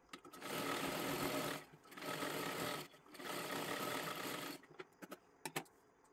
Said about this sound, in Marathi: आता इथे सुद्धा एक शिलाई मारून घ्यायची आहे.